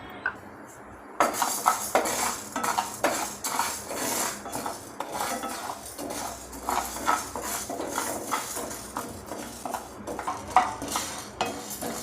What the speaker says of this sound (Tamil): இதை நம்ம பேனில் போட்டு வறுத்துக்கலாம்